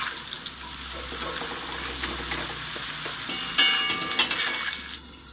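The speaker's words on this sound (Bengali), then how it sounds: "আলুটা আমার ভাজা হয়ে গেছে আবার একটু নেড়ে চেড়ে আমি তুলে নিচ্ছি" Potatoes frying in a kadai are stirred and turned as they finish browning, a steady broadband sizzle with scraping and clinks of a utensil against the pan, close and fairly loud, no voices.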